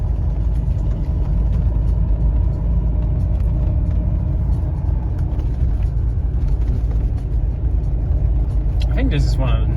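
Inside a moving Lancia Flaminia sedan, a low road rumble and engine hum fill the cabin steadily, with people talking over it and a brief squeal near the end.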